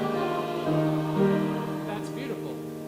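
A community choir sings together on a sustained ah vowel, its blended voices holding and shifting chords. Near the end a single voice cuts in briefly over the singing.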